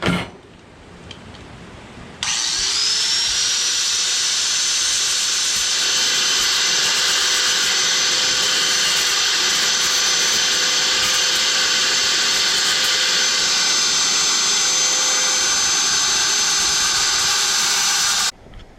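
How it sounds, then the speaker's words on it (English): A grinder starts up about two seconds in and runs without a break on a metal bracket, giving a loud, steady high whine with a bright hiss of grinding until it cuts off near the end. "I'm going to do a quick grind on this just to clean it up"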